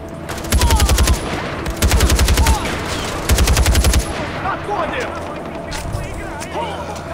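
Three loud bursts of assault rifle fire in Far Cry 4, each about a second long with rapid repeated shots, separated by quieter ambient game sounds; a voice is heard in between.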